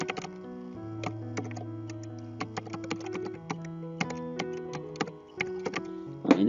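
An email address is typed on a computer keyboard as a quick, irregular run of crisp key clicks over soft, steady background music tones.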